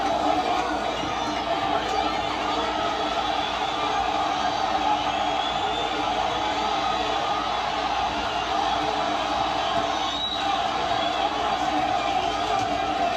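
A Las Vegas boxing crowd at the Ortiz versus Bohachuk fight keeps up a steady roar of cheering and whooping from the arena, with a commentator's voice over it.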